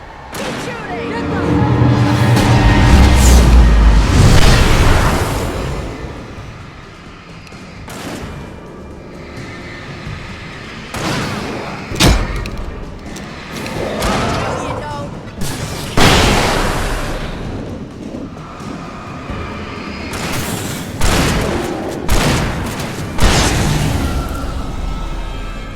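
Gunfire and explosions in the video game Alan Wake Remastered: a loud rumbling blast early on, then sharp repeated shots and booms scattered throughout, close and forceful, with voices shouting in between.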